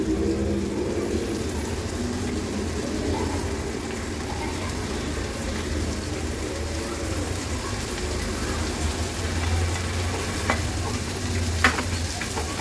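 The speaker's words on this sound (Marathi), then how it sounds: "मसाले तेलावर परतून झाले की आपण ही फरसबी आहे नगदी अगदी अशी गोल गोल बारीक चिरून घेतली आहे ती ऍड करणार आहोत" Finely chopped round-cut green beans fry in spiced oil in a pan, a continuous close sizzle with stirring and scraping throughout, plus a few brief clinks near the end.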